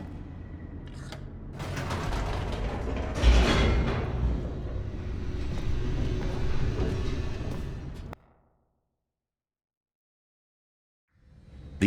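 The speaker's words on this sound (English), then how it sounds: "The elevator raced downward" An elevator descends in The Stanley Parable, a rumbling mechanical run with creaks and clanks and a heavier jolt partway through. It goes on for about eight seconds, then stops dead into silence before a faint sound returns at the very end.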